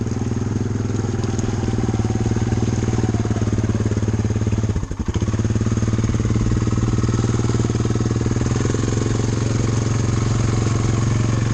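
A Honda Fourtrax 300 ATV engine drones loud and close as the machine climbs a bank, a steady throbbing roar with a brief dip in the middle before it pulls on.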